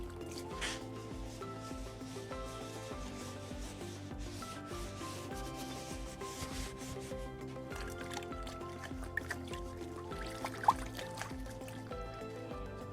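Oil being wiped off a work table with water during rear brake and air filter work on an XR650L, heard as close, repeated rubbing and wet squishing strokes over a faint, steady tonal background.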